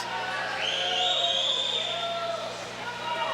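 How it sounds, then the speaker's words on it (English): Crowd and coaches at an indoor high school swim meet cheering and shouting over the remaining swimmers, a steady wash of overlapping voices with high whoops rising and falling. "A lot of cheering from the crowd and coaches for the remaining swimmers."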